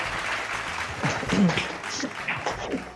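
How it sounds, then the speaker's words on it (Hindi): An audience at a Ramzan quiz show for the blind community applauds, a soft wash of clapping under scattered voices, moderately loud and continuous. "तालियां होनी चाहिए भाई, वाह शानदार।"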